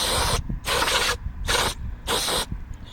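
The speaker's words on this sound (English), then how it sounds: "gonna spray this area off a little bit" Four bursts of spray washing off an engine area during a throttle and gasket job, each hiss lasting about half a second with short pauses between, close and fairly loud, with no talking.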